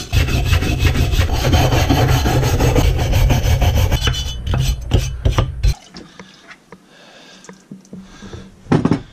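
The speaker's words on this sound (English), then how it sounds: "the scrubbing it with the wire brush and then soaking it" A wire brush scrubs a rusty bearded axe head by hand, producing loud, rapid raspy strokes for about six seconds, then lighter scattered scrapes and taps.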